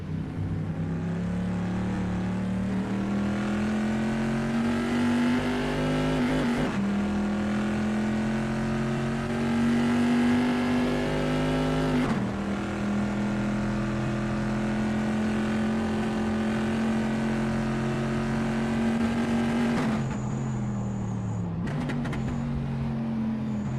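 A Bizzarrini race car at Imola pulling through the gears, a loud continuous engine note climbing in pitch and dropping sharply at each shift, repeated several times before it lifts off near the end.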